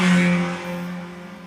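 Modified Mazda MX-5 with a hard top climbing the Shelsley Walsh hill climb course, its engine holding a loud, steady high-revving drone close by that eases slightly as it pulls away.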